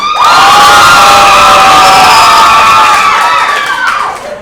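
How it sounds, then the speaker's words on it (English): A stand-up comedy club audience cheers and whoops loudly in a single strong burst, with high voices rising over the crowd before the noise eases at the end. "Clap the married people."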